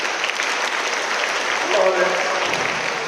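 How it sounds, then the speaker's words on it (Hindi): Audience applause at a school Guru Purnima program after a child recites a poem, brief dense clapping with a voice rising over it midway. "इसके लिए तालियां बजाइए"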